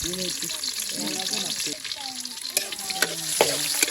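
Garlic fries in a pan with a steady close sizzle and occasional stirring clatter, while voices talk faintly in the background.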